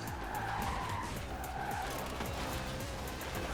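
Tires skid and squeal as a car brakes hard in the racing video game Forza Horizon 4, a loud continuous screech over engine roar lasting the whole stretch with no talk.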